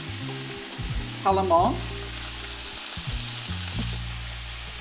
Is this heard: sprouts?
yes